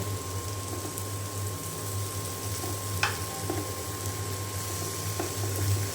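Eggplant pieces fry in oil in a pan on an electric stove, a continuous close sizzle with soft bubbling, a low electrical hum beneath and an occasional light clink.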